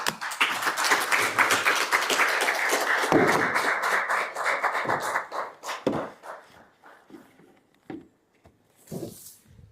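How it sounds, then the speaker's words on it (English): Audience applause at a book launch, a sustained round of clapping from a crowd that thins out into scattered claps and fades to near silence. "Let's clap for this gentleman once again."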